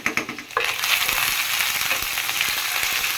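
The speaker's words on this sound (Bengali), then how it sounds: "এই তেলটার মধ্যেই আমি মাংসটাকে একটু ভাজা ভাজা করব" Beef sizzles in its own rendered fat in a pan for a curry with jackfruit seeds, a dense, steady frying hiss that follows a few quick clattering stirs at the start.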